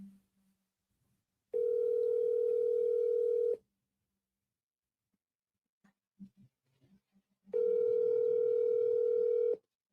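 A telephone ringback tone sounds while a call is placed, two steady two-second rings separated by a pause of about four seconds. Between them there is near silence with a few faint clicks.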